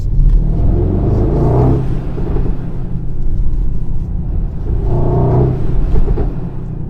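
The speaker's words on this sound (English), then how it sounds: "it is definitely fun driving a very large, heavy GLS with 630 horsepower" A 630-horsepower 2022 Mercedes-AMG GLS 63 SUV accelerates hard with a loud, steady engine roar that rises in two surges, heard close from inside the cabin without talk.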